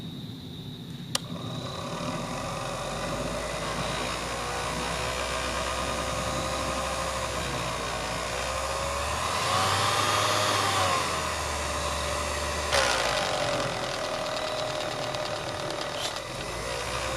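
Motor of an old movie projector runs steadily as a droning mechanical hum with a whirring whine, swelling briefly louder and deeper in the middle, continuous with no talk.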